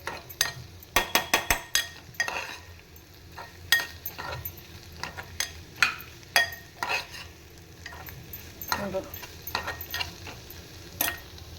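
Onion sautéing in a pan until soft, with steady stirring and scraping of a utensil against the pan under a light sizzle, close and moderately loud, with no voices.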